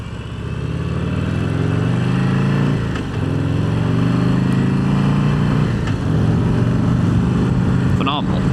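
A 2025 Harley-Davidson Heritage Classic motorcycle rumbles steadily while riding, a loud, close, low engine drone with a couple of brief dips, likely a gear change.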